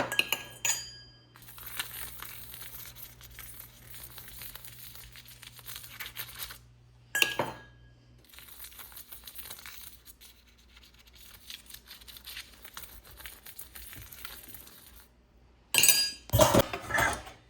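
Dishes, pots and cutlery clatter and clink in a home kitchen as they are gathered for washing, with crinkling handling noise, short bursts separated by pauses and a louder jumble of clanks near the end.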